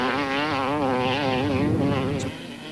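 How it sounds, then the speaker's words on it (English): A loud off-road race vehicle engine screams continuously as it runs flat out across rough desert dirt. The high buzzing pitch wavers with the throttle and then drops slightly near the end. "Listen to the engine."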